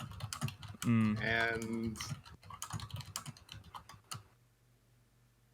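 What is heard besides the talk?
typing on a computer keyboard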